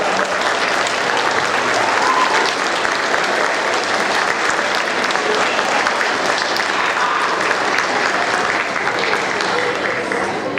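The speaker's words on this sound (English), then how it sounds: "give them a round of applause" Loud, sustained applause from an audience at a 6th grade awards ceremony, honoring standing honor students; dense steady clapping fills the whole stretch without pause.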